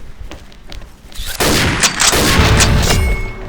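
Gunfire in the shooter game XSHOT breaks out after a quiet start as a loud, sustained burst of rapid overlapping shots that carries on to the end.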